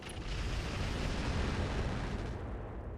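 Thumper artillery rounds firing in the RogueTech mech game, heard as a sustained roaring rumble of heavy blasts that fills the whole stretch and fades slightly at the end.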